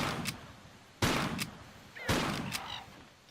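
Gunfire from Tomb Raider 3 as pigeons are shot down: three loud, sharp shots about a second apart, each with a long echoing tail, heard alone.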